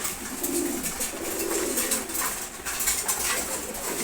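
Pigeons at a pigeon farm, including hens, coo in overlapping low murmurs, a steady chorus of several birds close by with a bright rustling hiss of the loft around them.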